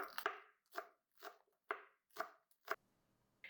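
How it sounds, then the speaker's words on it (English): A knife slices through green onion on a cutting board in six crisp, evenly spaced crunchy chops, close and clear, with a brief faint chop at the very end. "So let's cut up the green onion."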